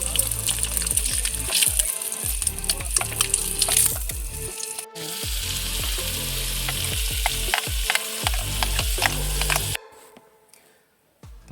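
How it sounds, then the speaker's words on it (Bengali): An egg fries and is stirred in a pan at a winter car camp in Purulia, India, with loud close sizzling and repeated scraping strokes. The sound breaks off briefly midway and stops near the end, leaving quiet. "ডিমটা ভাজা হয়ে গেল বেশ লাল লাল করে।"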